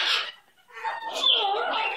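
Maui, a pet bird, gives a short chirpy call, pauses briefly, then lets out a longer run of close, warbling clucks and squawks, loud and alone.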